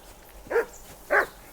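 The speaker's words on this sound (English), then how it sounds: "Henry, that barking's driving me nuts" In a video game, a dog lets out two short, close barks about half a second apart, standing out clearly against a quiet background.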